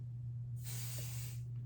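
A spray can of adhesive releases a short burst of about one second, a soft steady hiss inside a box under a cutting table, over a faint low hum.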